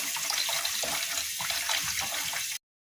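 Rice being washed in water for mutton biryani, a steady close splashing and running-water rush with small sloshing bursts, continuous for about two and a half seconds before cutting to silence.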